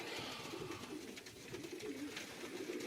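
Pigeons, including blue bar Jensens, coo softly inside a loft, a murmur of overlapping low calls repeating continuously amid faint background noise, with no voices.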